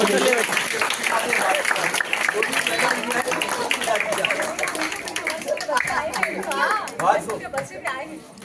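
Crowd clapping fills a hall at an Urdu literary competition, steady and fairly close for about eight seconds, with chatter and voices mixed throughout.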